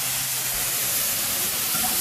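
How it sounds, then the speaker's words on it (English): Water added to a hot pan of spinach bursts into a loud, continuous steam hiss and sizzle, close up and unbroken for about two seconds. "Just going to take a wee bit of water to get some steam action"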